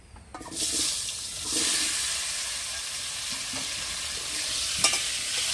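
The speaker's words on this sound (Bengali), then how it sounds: "আমি এখন রোদে শুকানো আমগুলো কড়াইতে দিয়ে দেবো" Sun-dried mango pieces dropped into a hot wok with oil, dried chillies and bay leaves, giving a loud, sustained sizzle with a few scraping stirs, up close and without talk.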